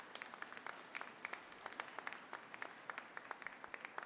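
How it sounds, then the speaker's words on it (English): A crowd at a women's under-18 hockey game, Canada versus USA, applauds as an injured player is helped to her feet, a soft, steady patter of many claps heard from a distance and fairly quiet. "she'll get a healthy round of applause here from the"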